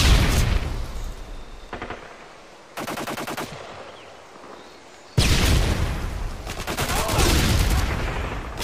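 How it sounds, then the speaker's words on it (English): A stun grenade goes off during a 5v5 Search and Destroy match on Wasteland in Call of Duty: Modern Warfare 2, with a sudden loud bang and sustained roar amid bursts of rapid game gunfire. "Tossing stun grenade."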